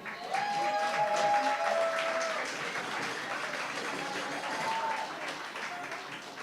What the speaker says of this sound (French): Alors, on peut peut-être applaudir une dernière fois les quêteux.